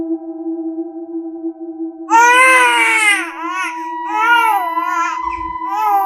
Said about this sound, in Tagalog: Iyak ng sanggol.